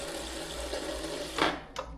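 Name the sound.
water running from a kitchen sink tap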